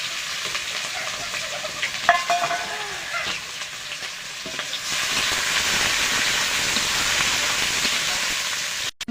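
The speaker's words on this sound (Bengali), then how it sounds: "এবারে বেরেস্তা করে নেব পেঁয়াজগুলো ভেজে।" Sliced onions fry in oil to make crisp birista for chicken biryani, with a bubbling sizzle and scraping stirs that swell into a louder, continuous hiss partway through before stopping abruptly.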